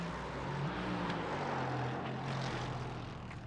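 A prototype-class race car in a sim racing game at Detroit, its engine a steady loud drone with a low rumbling tone holding constant, alone without voices.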